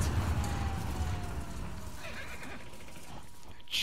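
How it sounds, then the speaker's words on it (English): A horse in the video game The Last of Us whinnies over a steady background rumble, its call drawn out and moderately loud, followed by quieter ambient noise. "It was just a horse."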